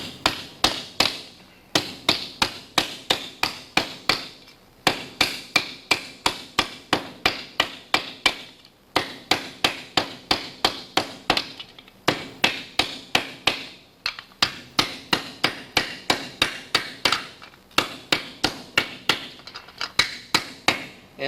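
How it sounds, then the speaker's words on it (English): An embossing mallet taps a metal piece shaped in a TuckPuck, giving crisp, close, evenly paced strikes in quick bursts separated by brief pauses, repeating steadily with no talk. "you don't really need to use the humongous embossing mallet like this. You can use something smaller."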